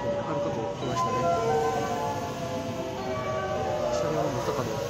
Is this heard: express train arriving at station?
yes